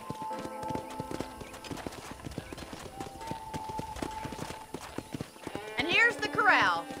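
Horse hooves clip-clop in a steady trotting rhythm at a ranch in the video game Red Dead Redemption, close and clear, ending in a loud whinny from the horse; a voice speaks over part of it.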